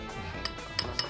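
A spoon clinks lightly against a dish three times, producing bright, brief metallic taps that are quiet and close, with no talking.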